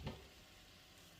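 Shrimp with pats of butter cooking in a skillet gives a faint, steady sizzle after a short bump at the start, quiet and close with no talk.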